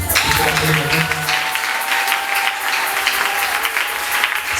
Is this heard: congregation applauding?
yes